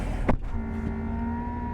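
A 2020 Chevy Corvette C8 idling while parked, a low steady engine hum with a faint whine, a brief thump near the start, heard from inside the cabin.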